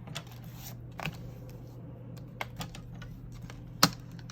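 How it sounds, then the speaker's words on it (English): Scissors cut across the top of a paper cash envelope, a series of small crisp snips and paper rustles close by, ending in one sharper click, with no talking. "I'm just going to cut right across the top there."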